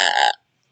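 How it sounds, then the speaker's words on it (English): A single loud, close burp lasting about a third of a second, rough and voiced, cutting off abruptly into silence during a game session between cousins. "Stop burping"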